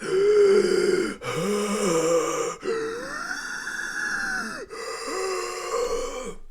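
A voice imitates a monster's heavy, raspy panting: several long, breathy groaning breaths with brief pauses between them, close to the microphone.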